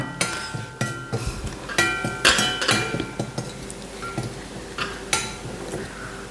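Grated coconut roasting in coconut oil is stirred in a metal pan, producing irregular close clinks and scrapes of a spoon against the pan.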